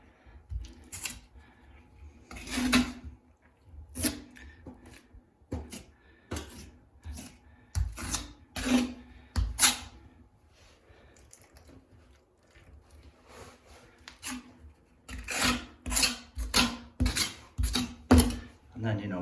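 Steel trowel scraping and smoothing tile adhesive onto a ceramic bathroom shower wall, a series of short, close, rasping strokes in bursts with pauses between, plus a few light taps.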